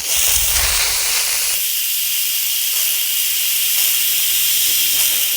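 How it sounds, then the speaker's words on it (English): An Instant Pot pressure cooker releasing steam through its vent after cooking a pot roast, giving a loud, steady hiss that runs unbroken from start to end, with a brief low rumble near the beginning. "I always put a mitt on because I don't like the hot steam to touch me. I'm turning it to venting."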